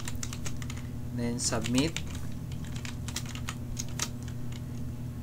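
HTML code is typed on a computer keyboard in steady, close clicking keystrokes over a low background hum, while a person speaks briefly partway through.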